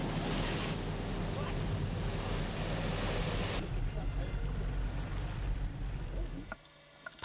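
Sea surf washing around Chuyeo island off Tongyeong as women divers leap from a boat into the water, a steady loud wash with wind buffeting the microphone, dropping quieter near the end.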